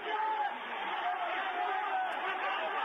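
Big crowd roaring and cheering at a kickboxing fight in Yokohama Arena between Andy Hug and Masaaki Satake, a steady loud wall of sound through the final round with a commentator talking over it.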